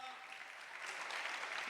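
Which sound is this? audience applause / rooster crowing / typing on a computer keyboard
audience applause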